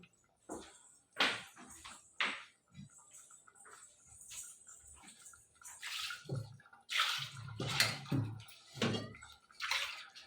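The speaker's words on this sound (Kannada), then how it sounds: "ಇದಕ್ಕೆ ಚೂರು ನೀರು ಹಾಕ್ಕೊತೀವಿ" Water is poured into a pot of carrot and beans sambar in several uneven splashing bursts, with quieter gaps between them and louder gushes toward the end.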